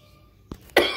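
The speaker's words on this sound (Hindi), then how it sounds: "एक खांसी मुझे मरवाएगी किसी दिन." A single sharp cough bursts out after a brief throat sound, close and loud against near silence.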